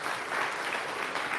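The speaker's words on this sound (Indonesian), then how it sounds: "Berikan tepuk tangan yang meriah buat Tuhan." A church congregation claps loudly and continuously in a brief, dense burst of applause during a sermon.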